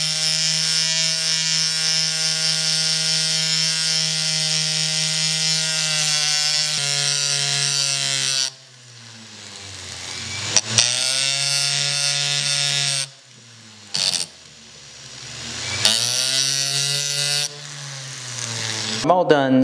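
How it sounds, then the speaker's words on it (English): A small flex shaft tool works a weld area on a curved metal pendant, giving a steady high-pitched whine for several seconds, then short, intermittent bursts of grinding and polishing. "I'm all done using the little flex shaft tool."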